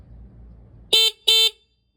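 Two short, bright honks from the horn on a Krueger chopper motorcycle ring out close and loud, each under half a second, following a faint low background hum.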